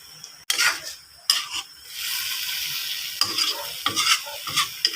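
Tofu and pechay fry in a pan with a steady sizzle while a utensil stirs and scrapes, making a few sharp clanks against the metal, loud and close with no talking.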